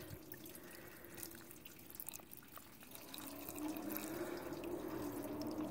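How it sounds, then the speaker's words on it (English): Water rushes from a Kohler Dexter toilet as it flushes, a steady close wash that swells louder about midway through in a blowout-style flush. "See, now it's flushing like a Dexter."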